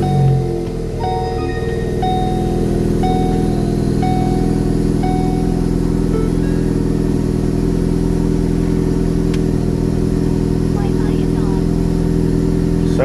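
A Ford Focus ST engine, fitted with a new TB Performance rear motor mount, idles steadily just after startup with a loud, constant low hum throughout and no speech.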